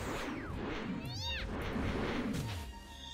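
Cat meow sound effect from the Kitty Fang attack in the video game Disgaea 2, a rising, warbling cry in the middle of the clip, heard over busy game music and battle effects.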